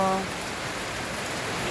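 Rain falls steadily on a rural home's tin roof, a dense, even hiss with no breaks, close and fairly loud throughout.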